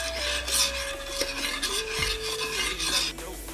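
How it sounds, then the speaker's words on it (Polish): Jelly is stirred in a pot to cool it for a cold dessert, giving soft, continuous scraping and swishing strokes with faint clinks of the utensil, close and steady throughout. "tu galaretkę mieszam, żeby ona też ostygła"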